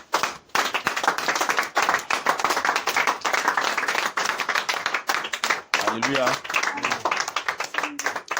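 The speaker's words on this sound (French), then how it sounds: "Applaudissons pour ce grand Dieu." Church congregation clapping along during a worship service, a dense continuous wash of hand claps mixed with singing and shouted praise, loud and close throughout with a brief dip midway.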